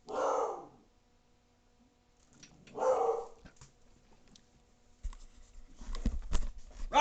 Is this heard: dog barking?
yes